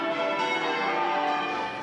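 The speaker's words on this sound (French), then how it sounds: "3h10 continues de carillon de l'abbaye de Westminster" Carillon bells of Westminster Abbey ring continuously in a dense, layered wash of overlapping peals, steady and loud with no talk.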